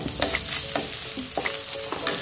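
Shrimp paste sizzles in a pan of frying garlic, a steady crackle with a utensil scraping and stirring in repeated strokes, close and alone.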